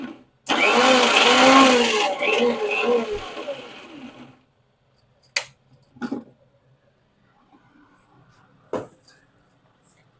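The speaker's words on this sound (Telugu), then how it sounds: "ఇప్పుడు మనం మూత పెట్టేసి మిక్సీ వేసుకుని వద్దాం" A kitchen mixie grinding onion chutney made from chopped onion and salt, a loud whirring burst for about four seconds, then short clattering knocks and stray handling noises as the jar settles.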